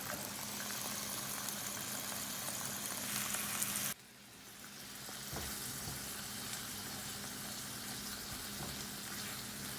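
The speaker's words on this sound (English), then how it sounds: "I'm going to spray a frying pan and saute this, adding in my frozen onion and my frozen red pepper" Sliced Polska kielbasa with frozen onion and frozen red pepper sautéing in a sprayed frying pan, a steady close sizzle and crackle throughout, briefly dropping and then returning at full strength.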